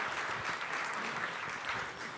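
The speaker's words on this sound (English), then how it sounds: "Yeah, applaud that" A town hall audience claps in a brief, moderately loud burst, a dense steady patter of many hands lasting about two seconds.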